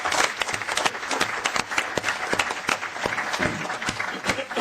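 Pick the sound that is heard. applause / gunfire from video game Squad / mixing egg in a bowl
applause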